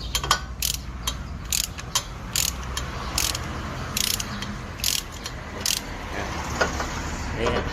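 A ratcheting hand tool works on a heavily rusted car brake disc during removal, giving repeated close bursts of sharp metallic clicks in an irregular rhythm, with quieter handling noise between them.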